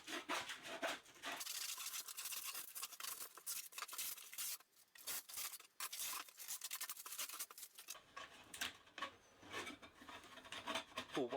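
Glued-down foam being stabbed, gouged and ripped away by hand, giving close, continuous rasping, scraping and tearing noises in uneven bursts with short pauses.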